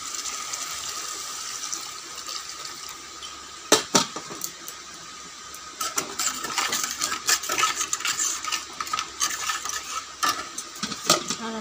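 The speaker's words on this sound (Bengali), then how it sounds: "এবার জল দিয়ে দেব।" Water poured onto a fried spice paste for a village-style rupchanda fish curry, with clattering pot and utensil knocks and a rising bubbling hiss, close by, with irregular bursts of clinks throughout.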